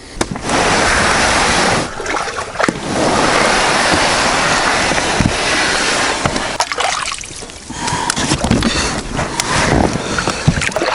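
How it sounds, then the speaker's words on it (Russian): Kayak pushed off into river water on the Sudost and Desna rivers, with sustained loud splashing and rushing water across most of the clip, broken by brief pauses and sharper knocks and scrapes toward the end. "ритуальное купание перед отправкой и сталкивание байдарки на воду"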